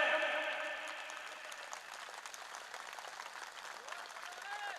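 Crowd at a religious gathering for cow welfare applauding a gold necklace donation, clapping that starts fuller and settles into a softer, steady patter at moderate distance, with faint tonal sounds early on.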